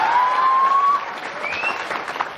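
Audience clapping during a humorous Islamic sermon, a steady patter of many hands at moderate volume with a few whistle-like tones over it.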